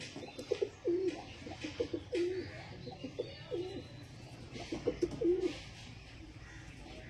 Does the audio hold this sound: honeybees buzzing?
no